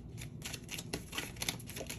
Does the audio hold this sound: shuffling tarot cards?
yes